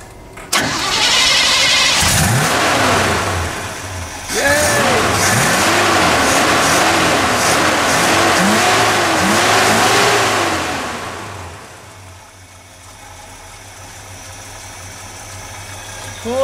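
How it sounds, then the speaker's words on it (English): A car engine cranks and catches after its carburetor has been cleaned, then revs through several loud rising-and-falling bursts before easing down to a steady low idle, close up with some voices faintly underneath. "Let's see if it'll start up."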